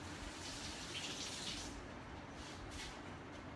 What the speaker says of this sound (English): We're gonna rinse those off real quick.